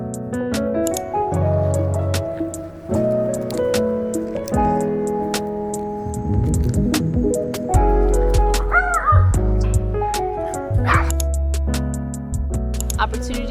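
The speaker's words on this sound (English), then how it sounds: "you're gonna hear my dog a lot in this video." A pet dog yips, whimpers and barks in short bursts indoors, mixed with a person talking and some background music through much of the stretch.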